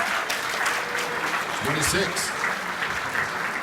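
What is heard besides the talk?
audience applause for the award finalists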